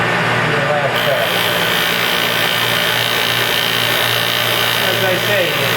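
Felder Profil 45 shaper with a 60 mm Schleiffix sanding attachment, 60 grit, sanding wood: a loud, steady machine drone and rubbing hiss throughout, with someone talking over it.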